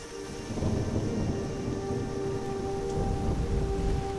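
Steady heavy rain pours down with low, rolling thunder rumbling through it, continuous and fairly even in loudness, at the start of the rainy season.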